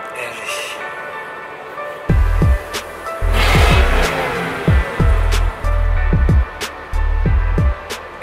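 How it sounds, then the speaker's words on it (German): A car engine revved repeatedly in sharp bursts, loud and close, with pops between blips and a higher whine rising in the middle. "Darf ich noch einmal Gas geben hier? Also ich muss den Sound noch mal hören"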